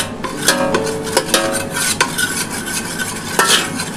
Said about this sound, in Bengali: এই যে ভালো করে এটা ঘিটা একটুখানি মাখিয়ে নিচ্ছি।